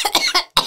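A quick series of sharp coughs, three rapid hacks, a short pause, then one more, close and loud.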